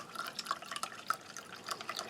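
Cold water poured from a handle-fed tap into a mug, a faint, steady trickle with small splashing drips throughout, heard alone without any talking.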